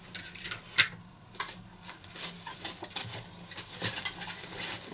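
A metal spoon and camping cookware being packed into a backpack, with scattered light metallic clinks and rattles amid soft rustling, fairly quiet and close, no talk.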